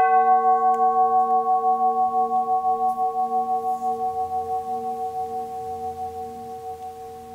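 Tuned healing pipe struck once with a rubber ball mallet, ringing alone as a clear sustained metallic tone with a steady low hum beneath, slowly decaying over several seconds with a gentle beating pulse.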